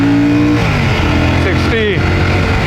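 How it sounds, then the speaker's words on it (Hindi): A Royal Enfield Shotgun 650 motorcycle pulls hard in first gear, its engine note loud and close as the revs rise and fall with a gear change, with a rider's voice partly over it. "पहले गियर में देखते हैं कितना जाती है।"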